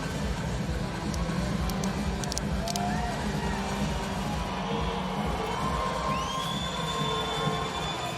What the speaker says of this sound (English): the crowd appreciative here.